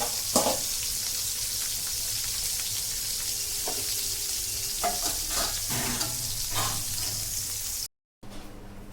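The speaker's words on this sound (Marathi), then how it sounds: "तळून घ्यायचं आहे पाच मिनटं ही करायचं आहे" Soybean chunks fry in hot oil with a steady, close sizzle and occasional stirring clatter, continuous for about eight seconds before cutting out briefly and resuming.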